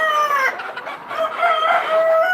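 Chickens and a rooster cluck and crow close by in a short, loud burst of overlapping fowl calls, with no talking.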